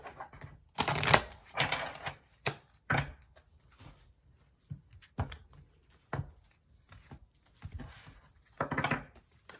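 Tarot cards being shuffled in quick bursts, a crisp riffling patter repeated several times with short pauses between, close and fairly quiet with no talking.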